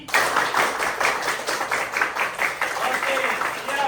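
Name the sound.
children clapping many times in class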